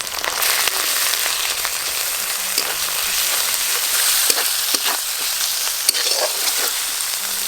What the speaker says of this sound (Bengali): পেঁয়াজ লাল লাল করে ভাজা হয়ে গেছে। এবার আমি আদা রসুন বাটা দেব।